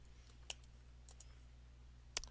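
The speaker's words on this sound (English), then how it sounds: "You can change the font size by typing in a number," Sparse, faint key clicks come from a computer keyboard as a number is typed, with two sharper taps standing out against a quiet background hum and no talking.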